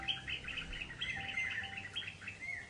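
Birds chirp and tweet steadily over a low background hum, several overlapping bright calls at moderate volume with no voices.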